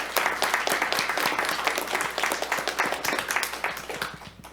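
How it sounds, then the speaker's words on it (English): A small group at a county board of supervisors meeting applauds, with individual claps clearly distinct in an uneven, moderately sparse rhythm that continues throughout before tapering at the end. "this is a good chance for us to applaud, to thank Richard for his service"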